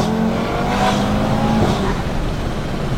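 An 800-horsepower turbocharged Audi TT RS revs up accelerating in second gear, a steady loud roar with rising pitch, close by and continuous, with no voices.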